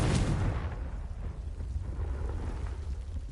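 A Confringo blasting spell explodes in Hogwarts Legacy, a loud booming burst up front that rolls into a sustained low rumble with crackling debris.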